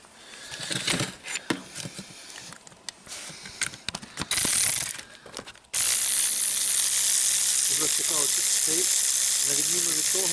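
Screws coming out of a Tesla Model 3 pump bring quick ratcheting clicks and metallic tool handling up close, then a loud broad rushing noise takes over the second half.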